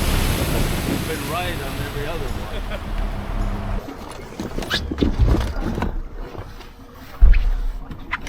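Waves lap around a fishing boat on a lake at a bass tournament, with steady water wash and wind buffeting the microphone, a few knocks against the hull, and voices talking over it.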